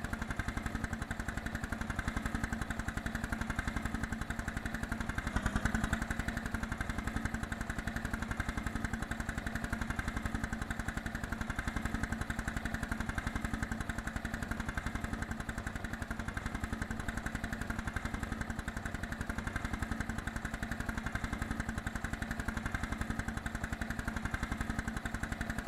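Tractor engine running steadily in Landwirtschafts-Simulator 19, a constant droning hum with no pauses, loud and close, heard alone without talk.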